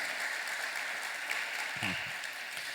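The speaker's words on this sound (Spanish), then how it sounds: "dale un aplauso al Señor" A church congregation applauds during a sermon, a soft, fairly distant patter of many hands that holds steady throughout, with a brief low murmur rising near the end.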